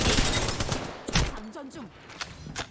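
Rapid bursts of gunfire from the video game Apex Legends crackle loudly through the clip, with repeated shots spread over a busy mix of other game sounds and tonal effects.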